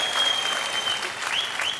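Steady studio audience applause on a comedy game-show set, dense and sustained throughout with a faint thin tone running beneath it.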